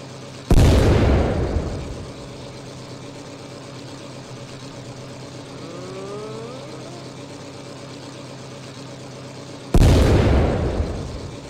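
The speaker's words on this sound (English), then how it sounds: "What happens if you shoot barrel? The barrel disintegrates, that's awesome." Two heavy tank gun blasts from an M26 Pershing in Tank Mechanic Simulator, each a sharp loud boom with a long rumbling decay, spaced about nine seconds apart, with a low steady engine hum between them.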